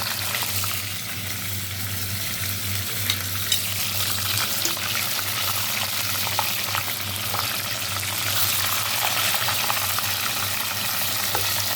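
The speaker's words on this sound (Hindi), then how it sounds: "ये बाकी लास्ट 2 फ्राई हो रहे हैं।" Food frying in a pan in a home kitchen while preparing a Chinese-style dinner at high altitude: a steady, close sizzle and hiss runs the whole time over a low hum, with no voices.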